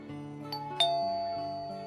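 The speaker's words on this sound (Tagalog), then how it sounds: "Pindutin ko nga ulit itong doorbell." A doorbell chimes, two or three bright tones ringing out and fading in an otherwise quiet room.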